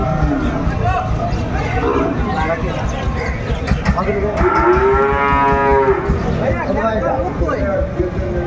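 A Sahiwal bull lets out a long, loud moo close by, rising over a busy background of crowd chatter and livestock noise at a cattle market in Chittagong.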